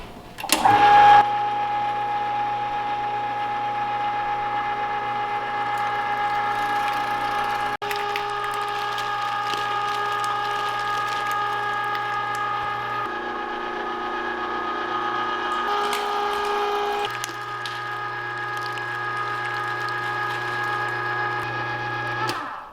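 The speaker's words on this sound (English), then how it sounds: "The reason why I really like this meat grinder is it's got a big throat, so we can just put big stuff in it like our lard" An electric meat grinder with a big throat steadily grinds pork leaf lard, its motor whining in a loud, continuous hum that shifts pitch slightly as the load changes, with no talking.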